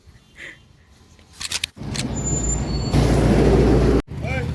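Heavy traffic roars past on a national highway in Jalpaiguri, a short quiet lead-in, then a loud close rush of engines and tyres with a brief hiss and a sudden cut, a voice speaking near the start.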